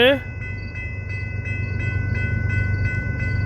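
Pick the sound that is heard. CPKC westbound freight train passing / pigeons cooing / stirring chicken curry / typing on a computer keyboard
CPKC westbound freight train passing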